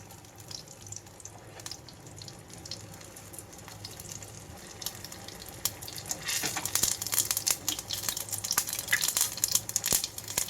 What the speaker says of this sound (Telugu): ఇక్కడ ఆవాలు చిట్పటం అనే వరకు ఉంచుతున్నాను